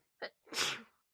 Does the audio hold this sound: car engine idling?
no